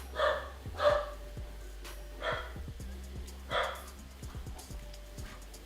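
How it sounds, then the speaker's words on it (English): A dog barks in a room while a 3D printer is being modified, giving four or five short moderate barks spaced about a second apart, with soft clicks and handling noises between them. "My one pup, she loves barking at everything."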